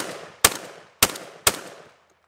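An IWI 12 gauge bullpup shotgun fires three sharp, loud blasts spaced roughly half a second apart, each with a short echoing tail fading into quiet.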